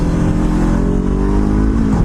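A 2017 Honda CBR500R motorcycle engine lugs at low RPM in the wrong gear, a loud, close, low throbbing drone that holds steady and then sags slightly near the end.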